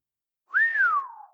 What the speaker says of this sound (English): emitted a sardonic whistle